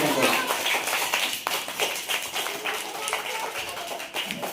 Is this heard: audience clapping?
yes